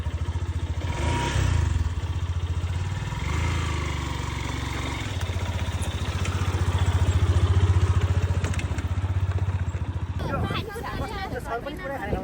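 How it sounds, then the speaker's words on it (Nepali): A motorcycle engine drones continuously while riding a rough mountain trail in the Likhu river valley of Nepal, its low rumble rising and falling, with people talking over it. "हामी आधी बाटोसम्म बाइकमा जान्छौँ"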